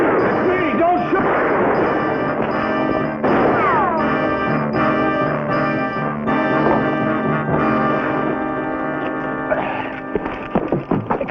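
Rifle gunfire in a western film scene, sharp reports cracking out amid a dense soundtrack of music and shouting voices, with several loud impacts spread across the clip.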